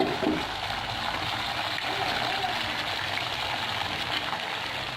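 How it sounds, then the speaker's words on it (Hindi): Beaten eggs go into hot oil in a pan, setting off a broad, continuous sizzling hiss that stays fairly loud and even for the whole stretch. "अब हमने जो अंडे फेंट के रखे थे वो हम इसमें डाल देंगे अपने पैन में।"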